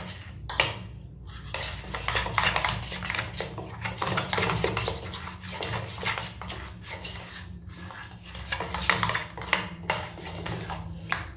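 A spoon scrapes and clinks against a bowl while desiccated coconut is stirred into a Pina Colada truffle mixture, an uneven rhythm of close, soft mixing strokes with brief pauses.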